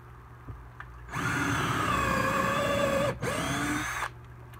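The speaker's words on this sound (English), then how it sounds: "get your drill and go straight up and straight down, best you possibly can." A power drill whirs loudly in two close bursts, drilling holes for an aquarium light mount, about two seconds then one second, with a brief pause between and quiet before and after.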